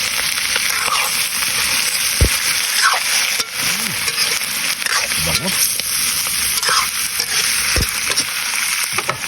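Chicken guya for adobong pinatuyo sizzles and fries in a pan while being stirred, a steady bright crackle with occasional scraping knocks of the utensil against the pan.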